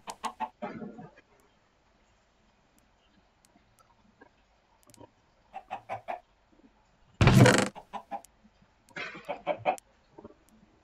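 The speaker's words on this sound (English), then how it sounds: "So don't go killing all of our chicken." Chickens in the Minecraft video game cluck in short, scattered bursts at a moderate distance over quiet gaps, with one louder flurry partway through.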